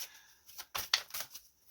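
Tarot cards being shuffled in quick, uneven bursts of papery riffling and flicking, close and fairly quiet, with brief pauses between the bursts and no talking.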